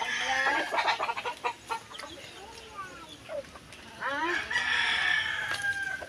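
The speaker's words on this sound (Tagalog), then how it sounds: "Dami ng manok. Yan, mga sasabungin." Fighting roosters at a rural hut crow repeatedly, several overlapping cock-a-doodle-doos and clucks from birds close by, with a voice talking intermittently among them.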